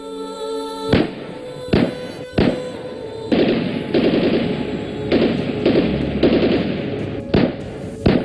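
Gunshots during an armed attack on the Army Public School: several sharp, loud cracks at irregular intervals, with a dense rumble and crackle of noise between them.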